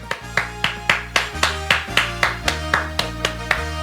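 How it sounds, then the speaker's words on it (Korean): A church congregation claps in steady rhythm during a Wednesday worship service, sharp, evenly spaced claps ringing over sustained worship music. "우리 하나님께 감사의 박수 올리겠습니다."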